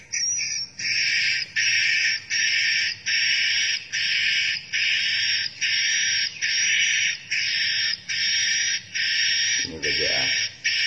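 A swiftlet lure recording of a mating call plays as a loud, bright, buzzing chirr repeated in about ten even pulses with short gaps. A brief voice cuts in near the end.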